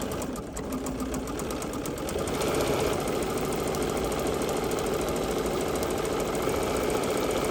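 A serger overlocker runs steadily and close, stitching a wide 2-thread wrap stitch around a mitered fringed edge, a loud continuous rapid mechanical chatter with no talking.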